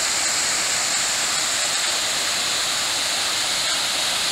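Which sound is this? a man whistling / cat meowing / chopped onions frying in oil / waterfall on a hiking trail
waterfall on a hiking trail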